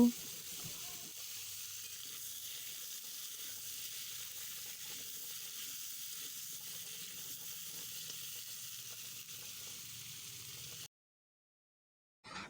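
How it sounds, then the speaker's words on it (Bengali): Pre-cut potatoes fry in hot oil left over from frying fish, a faint, steady sizzle that continues evenly and then cuts off near the end. "ওই তেলের মধ্যে আগে থেকে কুটে রাখা আলুগুলো আমি ভেজে নেব"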